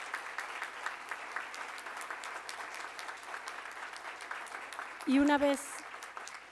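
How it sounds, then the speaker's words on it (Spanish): An audience at the opening ceremony of a Latin American congress of audience ombudsmen claps for the technical and production crew, steady moderate applause throughout, with a voice speaking briefly near the end. "Un fuerte aplauso a mis compañeros técnicos y de producción."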